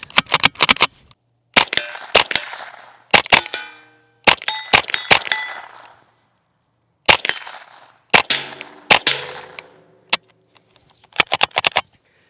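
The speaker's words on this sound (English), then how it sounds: "I'm gonna shoot one of our metal barrels down there." Sharp, muffled suppressed .22 rifle shots fired in quick clusters, each followed by a bright metallic clang and ringing as they hit a metal barrel. Bursts are separated by short pauses, with no talking.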